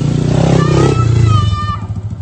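A motorcycle engine revs hard and close, rising and falling through a couple of throttle blips before settling toward a lumpy idle.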